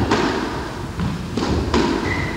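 A squash ball strikes the court walls and tin in a 1981 semi-final match, giving several sharp, echoing thuds in quick succession inside the court.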